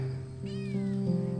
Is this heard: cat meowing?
yes